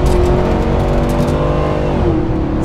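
Porsche 911 Sport Classic driven hard along a mountain pass, its engine note loud and close and rising and falling steadily through the corners, with no talk over it.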